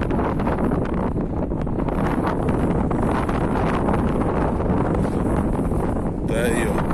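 Strong wind roars and buffets the microphone outdoors beside a truck in the Andes mountains of Chile, loud and continuous throughout, with someone speaking under it.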